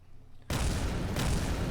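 An explosion in Kerbal Space Program hits suddenly after a quiet moment and becomes a loud, sustained, crackling roar that swells again briefly.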